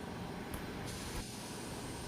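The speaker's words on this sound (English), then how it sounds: "You want to evaluate the paint as you're spraying and adjust from there." A spray gun applies paint to a Ford truck body panel during repair work, producing a faint, steady hiss that runs unbroken throughout.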